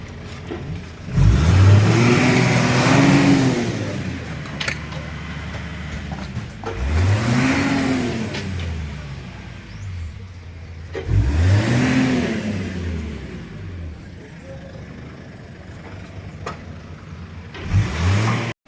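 A Suzuki Hustler car being unloaded revs its small engine in three separate bursts, each rising and falling, close by against faint outdoor background noise with no talking.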